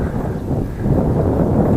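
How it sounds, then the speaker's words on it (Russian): Gusting wind sweeps dust across a hot, open landscape in Qinghai, China, roaring as a broad, buffeting rush into the microphone that surges and eases unevenly; no voices. "ветер сейчас идет с Алашани, он пыль поднял"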